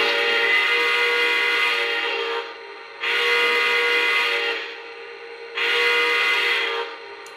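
Three long, steady steam whistle blasts sound one after another, separated by short gaps, loud and close with a breathy hiss.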